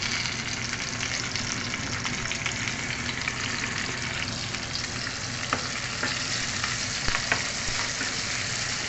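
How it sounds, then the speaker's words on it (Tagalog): Onions are stirred in a frying pan for a Filipino sautéed bamboo-shoot dish, giving a steady, loud sizzle with occasional sharp spatula scrapes and no talking. "Mix natin yung ating sibuyas."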